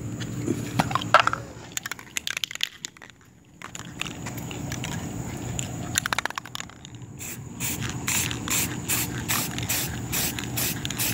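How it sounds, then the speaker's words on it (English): An aerosol can sprays paint in short bursts onto a treestand for camouflage, with a run of quick regular hisses toward the end, amid rattling and handling noises. "Just spray over it."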